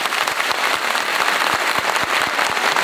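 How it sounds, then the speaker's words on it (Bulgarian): Loud, close applause at a kindergarten's 60th anniversary celebration in Pernik, a dense wash of clapping hands with a few sharper individual claps standing out. "Още веднъж аплодисменти."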